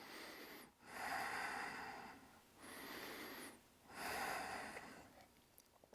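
Yoga practitioner breathing through a vinyasa flow pose, three long, loud, close breaths in a slow steady rhythm with short pauses between them.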